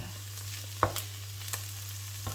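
Garlic and chilli sizzle quietly in a pan for a gluten-free vegan nut roast, with a few soft clinks and scrapes from stirring over a steady low hum; no one speaks.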